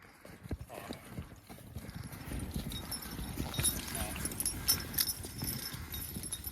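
A horse walks with steady clip-clopping hooves close by, while people talk over the footsteps.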